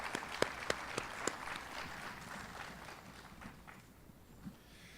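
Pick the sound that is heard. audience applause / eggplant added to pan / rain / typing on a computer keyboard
audience applause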